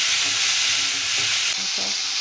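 Chopped tomatoes sizzle loudly and continuously in a pan for a mixed vegetable bhaji, with a few soft stirring knocks underneath.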